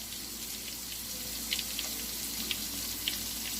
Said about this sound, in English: Like a summer rain. Just a slight sizzle.